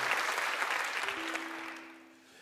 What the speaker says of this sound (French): S'il vous reste encore un peu de force dans les mains, vous pouvez applaudir, et ils le méritent